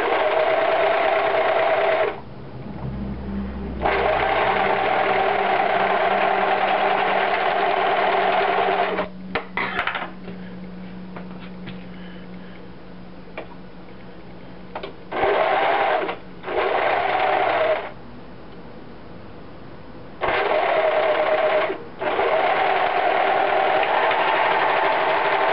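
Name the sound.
sewing machine stitching boxer brief underwear fabric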